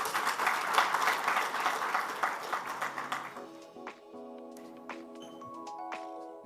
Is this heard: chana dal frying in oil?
no